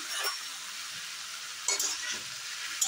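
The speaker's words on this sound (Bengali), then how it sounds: "লবণটা দিয়ে আলু টমেটোটা ভালোভাবে একটু নেড়ে চেড়ে নেব।" Potatoes and tomatoes with salt are stirred in a hot pan, a bright sizzle broken by a few short scraping strokes, close and with no talk.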